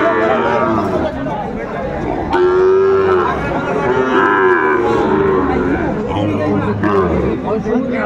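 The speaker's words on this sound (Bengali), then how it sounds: "দেখছিলাম এখানে বেশ সুন্দর গরু, শাহিওয়ালের ষাঁড় বাচ্চা।" A Sahiwal bull calf moos loudly at a busy cattle market at Aftabganj haat, its long low calls rising over constant crowd chatter and bargaining voices nearby.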